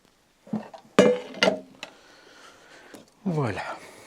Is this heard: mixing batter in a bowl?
yes